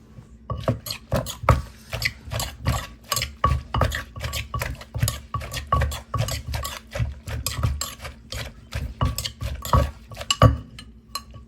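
Papaya salad being pounded and tossed with blanched squid in a mortar: a steady run of close wooden knocks and clinks, irregular but continuous, with no talk over it.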